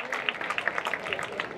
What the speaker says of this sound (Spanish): ¡Vámonos, un aplauso!